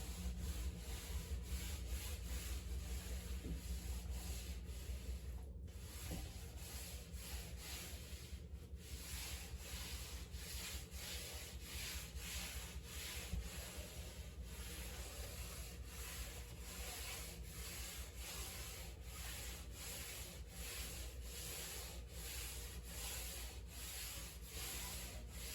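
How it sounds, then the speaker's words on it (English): Wood trim sanded by hand, a steady, continuous scratchy rubbing that runs unbroken and close throughout, with a low background hum and no talking. "have taken to hand sand all of this"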